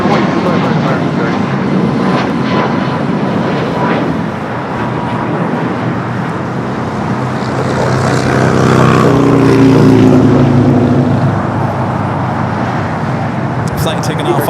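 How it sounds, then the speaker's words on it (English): A Hawaiian Airlines Airbus A330 takes off from the north side of LAX, its engine roar swelling steadily and peaking near the end, with a radio voice talking over the noise at times. "Flight taking off on the north side"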